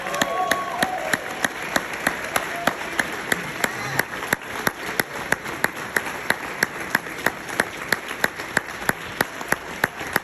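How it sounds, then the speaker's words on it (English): Audience applause after an MLK keynote speech in Ontario, California, with sharp, evenly spaced claps repeating steadily over a crowd wash for the whole stretch, fairly close and unbroken by talk. "Give him a round of applause."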